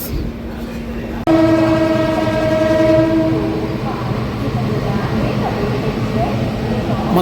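The Konark Express pulls away from Secunderabad Junction with a loud horn blast lasting about two seconds. Rumbling wheels and carriage noise follow and build into a continuous roar.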